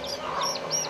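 Chickens cluck and call on a farm in Brazil raising a giant rooster breed, a few short fowl sounds in quick succession at moderate level, with no talk.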